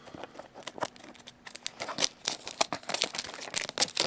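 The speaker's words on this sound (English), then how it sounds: "Scissor, use cut." Scissors cutting open the plastic wrapping of a Pokemon card pack up close, heard as a quick run of crisp crinkles, snips and tearing rustles.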